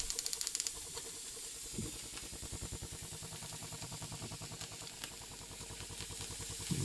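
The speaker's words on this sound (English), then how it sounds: "You can see the steam already, and that's coming out at a fair old whack" Steam hissing from a Silvercrest steam mop used as a handheld steamer, a continuous close, airy hiss with a faint rhythmic pulsing underneath and a few soft knocks, steady and moderately quiet.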